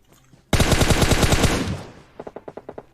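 A long automatic burst of gunfire in PUBG Mobile rattles loud and close for over a second, then after a short pause a quicker string of about eight separate shots follows.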